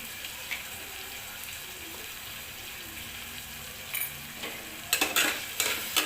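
Turmeric and garam masala stir-fried in a pan for village-style egg curry, a soft steady sizzle under scraping spoon strokes that grow louder and clatter near the end.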